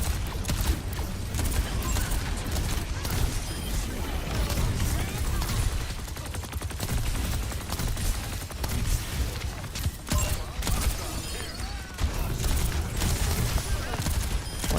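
Overwatch gunfire rattles in dense, continuous volleys throughout, loud and close, with no pauses across the whole stretch.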